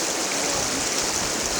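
A stream flows beside a riverbank where a woven bamboo fish trap and fence stand, giving a steady, close broadband rush of water with no pauses.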